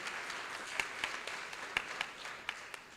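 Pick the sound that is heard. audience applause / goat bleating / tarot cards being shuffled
audience applause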